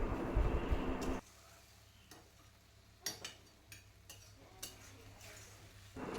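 Garam masala is mixed through a banana flower curry in a pan: a loud burst of stirring and sizzling, then a quieter stretch of scattered sharp scrapes and clicks of a spoon against the pan, with no talk.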